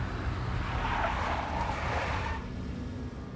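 A big black Mercedes in the Max Payne video game, heard as a steady, loud car engine roar with some tire noise, continuous throughout and easing slightly toward the end.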